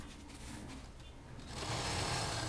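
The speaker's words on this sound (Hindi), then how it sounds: "तो अब इसको भी सिल देंगे इसी तरह से, सीधी सिलाई बिल्कुल।" A sewing machine runs a straight seam on a bed cover made from a saree, whirring steadily and quietly before speeding up and growing louder near the end.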